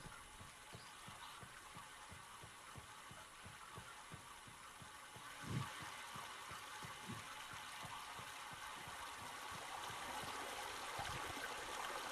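Water fired out in the video game Myst (2021), a steady gushing stream with soft rhythmic throbbing pulses beneath, continuous and fairly faint throughout, with no talking.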